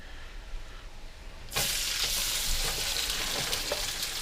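Macaroni hitting hot browning butter in a pan erupts into a loud, steady sizzle after a quiet start, with faint stirring scrapes running through the frying.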